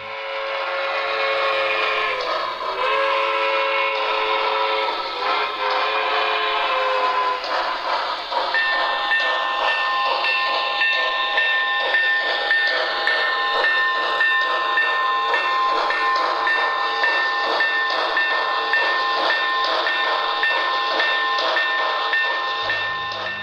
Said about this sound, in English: we still have an ample supply of Pennsylvania Railroad K4 Pacific type locomotives from Broadway Limited